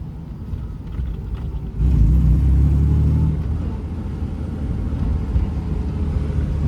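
A 1958 Jaguar XK 150 rolls onto the road, its engine a steady low rumble that swells louder around the second mark and then settles into a continuous drone.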